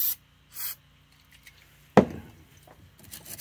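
Short hissing bursts of brake parts cleaner sprayed onto brake guide clips from a 2020 Dodge Charger's front brakes, two quick sprays, then a sharp clink and faint handling noises, close up with no talk.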